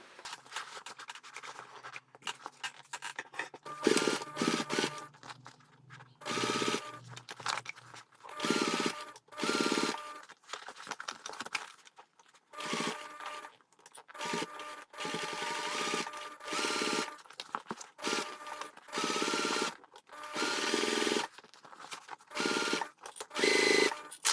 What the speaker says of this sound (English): We're going to stitch around the top edge using 1 centimeter seam allowance.